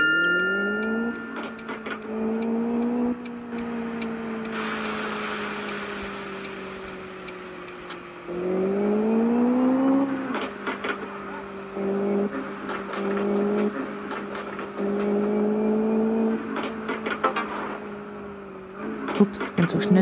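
A Seat Ateca's engine drones and shifts pitch as it drives in the video game Driving School Sim, rising and falling with acceleration, punctuated by sharp clicks and ticks.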